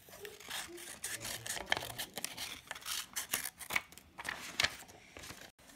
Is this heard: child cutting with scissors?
yes